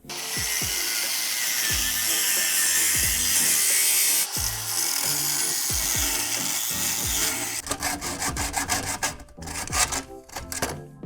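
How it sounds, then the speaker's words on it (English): A saw rasps rhythmically through the exhaust pipe of a 2008 Ford Explorer, steady back-and-forth strokes up close, shifting near the end to quicker, choppier cutting bursts. "We're just gonna start, cutting off that pipe."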